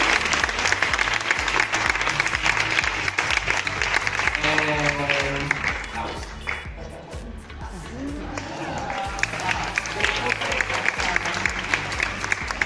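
Studio audience applauds the season 2 drag contestants, steady dense clapping with a brief dip and lull midway before building again, voices mixed faintly underneath.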